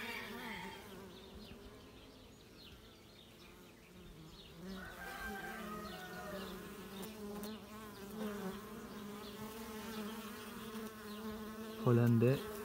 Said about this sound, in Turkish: Bu bizim yerli arımız.